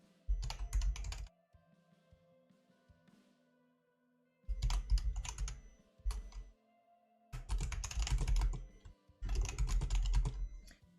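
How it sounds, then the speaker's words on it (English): Bursts of rapid clattering keystrokes on a computer keyboard, three or four close, loud clusters of typing separated by quiet pauses, with no voices. "while I'm typing up this message for our Div C West"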